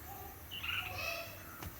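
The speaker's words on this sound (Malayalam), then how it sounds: "ഇപ്പം നമ്മുടെ കിളി വന്നായിരുന്നു" A bird calls in a short burst of high chirps over a low, steady background hum, moderately close and with no one talking.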